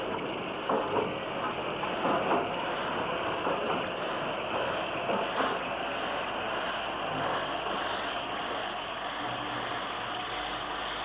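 Steam locomotive 90465 from Ardsley runs past in a steady, continuous rumble with faint rhythmic rail clatter, heard from a moderate distance under a constant hiss.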